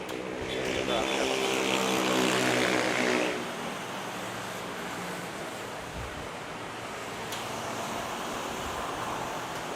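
A Philippine Air Force C-130 propeller plane lands at Manila airport, its loud droning engine roar and rumble fading after a few seconds into a softer steady wash of noise.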